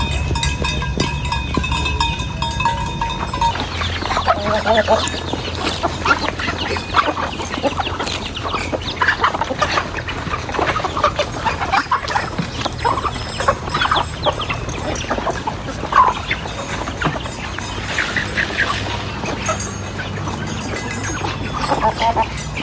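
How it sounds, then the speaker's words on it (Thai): Free-roaming chickens feeding outdoors alongside ducks in rural Laos, with continuous busy clucking and scattered fowl calls over a steady farmyard background, mid-distance and moderately loud throughout. "ไก่ออกมากินอยู่นอกเป็ดกินอยู่ในอย่างนั้น"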